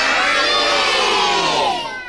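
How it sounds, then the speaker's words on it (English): A theatre audience of children shouts loudly in unison for Scampi, a burst of high excited yelling and cheering that swells and then fades over about two seconds. "I want you all to shout for Scampi"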